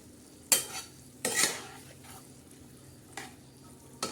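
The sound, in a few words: stirring green bean pods frying in red masala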